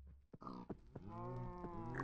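Farm animals in a Minecraft-style video game, cows and pigs: a few short grunts and thumps give way to a long, drawn-out lowing moo, close and clear.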